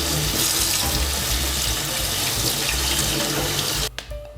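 Tap water runs steadily into a kitchen sink as half a leek is rinsed, a continuous close splashing hiss that stops abruptly near the end.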